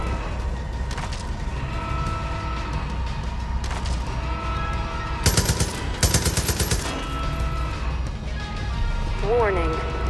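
Gunfire aimed at fuel tanks in Far Cry 5, with rapid bursts of automatic shots in the middle over a steady engine drone and in-game voices talking throughout.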